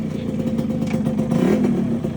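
A motorbike engine runs steadily up close, a low throbbing hum with slight revving swells throughout.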